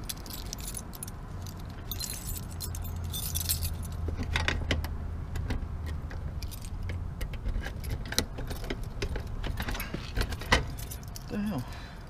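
Keys jangle and rattle repeatedly against a lock as someone tries to open it, with a low idling vehicle rumble underneath and occasional voices in the background.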